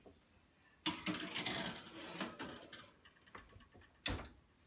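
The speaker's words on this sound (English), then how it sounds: "And I'll set the timer for 45 minutes for that." Mechanical kitchen oven timer being wound: a close, scratchy ratcheting whir for about two seconds, some quieter clicking, then one final sharp click.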